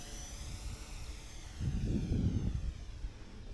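A Turbo Timber RC model airplane dives over a runway, its faint motor hum rising into a brief louder whoosh midway before easing off again, with no one talking.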